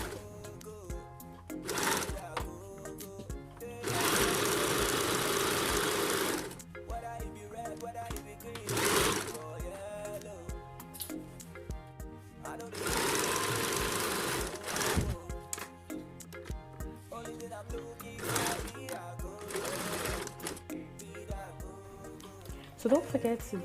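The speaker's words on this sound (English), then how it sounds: "sewing on the cotton fabric, that my African print fabric, makes it easier, doesn't stretch while I'm sewing" A sewing machine stitching cotton African print fabric runs in repeated short bursts of rapid mechanical whirring with pauses between them, close by and steady, while someone talks over it.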